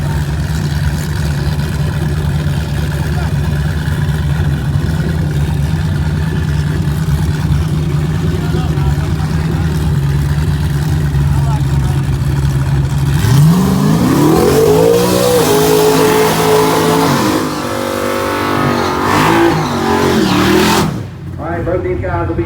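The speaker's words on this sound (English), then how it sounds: "Two OBS trucks right here." Old OBS-generation Ford trucks race, their engines revving hard and accelerating loudly through rising and falling pitch sweeps, with a commentator talking over the roar.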